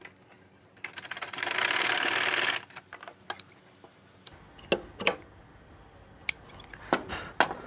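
Sewing machine briefly stitching down the folded end of a loop for a pants back pocket, a short whirring run of about two seconds followed by scattered clicks and handling taps.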